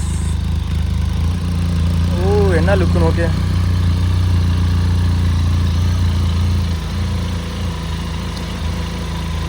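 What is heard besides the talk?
motorcycle engine running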